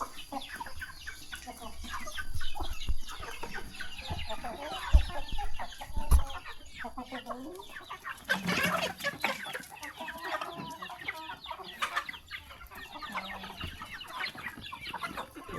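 Chickens cluck and fowl chatter busily at close range, with a few sharper squawks standing out against steady farmyard background noise and no speech.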